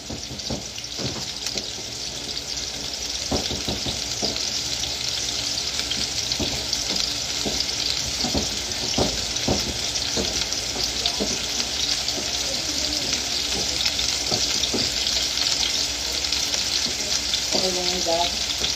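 Tomatoes sizzle steadily in a hot pan, a loud continuous fry with scattered scraping and clinking as they are stirred, and a brief voice near the end.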